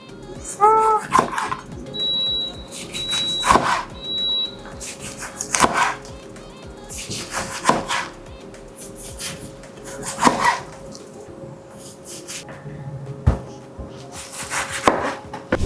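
A knife cuts through lemons one slice at a time for honey lemon preserves, giving sharp, separate chops every couple of seconds against a board, close and clear over a quiet room hum.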